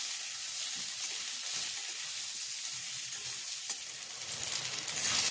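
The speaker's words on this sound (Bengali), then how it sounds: "দুটো একসাথে দিয়ে দিচ্ছি। হালকা করে ভেজে নেব।" Raw mango pieces and fried potato sizzle together in a hot pan, a steady bright hiss with occasional stirring scrapes and a slight swell toward the end.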